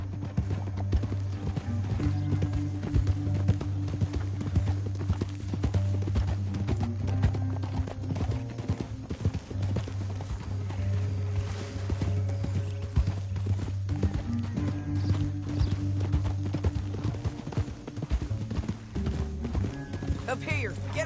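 Horses gallop in Red Dead Redemption 2, their hooves clip-clopping in a steady rapid rhythm with an occasional whinny, under people talking and a low engine-like drone.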